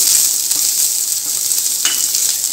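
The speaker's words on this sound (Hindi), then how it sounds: "मसाले को सौटे कर लेंगे।" Spices sautéing in leftover oil in a pan for a halwai-style potato and cauliflower curry, a steady loud hiss and sizzle running throughout with small stirring knocks and no talk.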